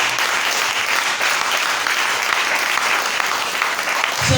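A church congregation in the chapel of Collège St Jean-Baptiste in Cotonou, Benin, applauding to acclaim Jesus: loud, sustained clapping from many hands that fills the room evenly without a break, with a voice surfacing faintly at the end.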